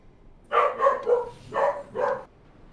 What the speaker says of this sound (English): the sound of a dog barking